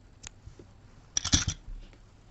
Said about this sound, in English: fasten it off, cut your yarn.